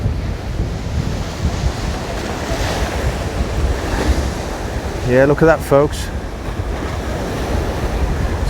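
Choppy sea surf rolls steadily along Aberdeen Promenade, a constant wash of breaking waves with heavy wind buffeting the microphone, and someone speaks briefly over the roar.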